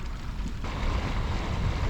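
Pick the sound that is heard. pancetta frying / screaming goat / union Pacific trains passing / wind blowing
wind blowing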